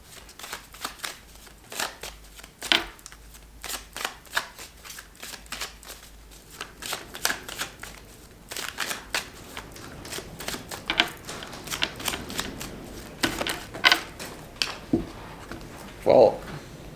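Tarot cards are shuffled repeatedly in quick, crisp riffling bursts close by, with someone speaking intermittently between and over the shuffles.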